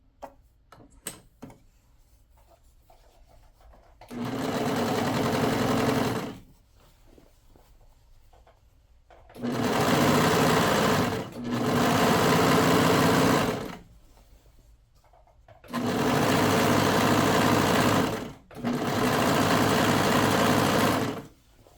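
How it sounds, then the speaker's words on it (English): A serger finishing the edge of a T-shirt runs in bursts: a single long run and then two pairs of steady, rapid stitching runs, each separated by quiet pauses with faint handling clicks. "what I do is just align it with this little edge of my foot on my serger"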